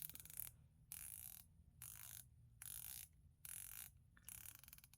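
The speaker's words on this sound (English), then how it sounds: "let's have a listen to that bezel" Rotating dive-style watch bezel turned in five bursts of quick, fine ratcheting clicks, each lasting under a second with short pauses between, close and quiet.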